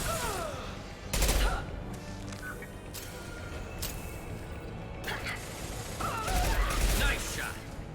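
Gunfire in the Mass Effect 2 game comes in two loud, close bursts of rapid shots about six seconds apart, with fainter sci-fi weapon noises and mechanical clatter in between and a voice speaking at times.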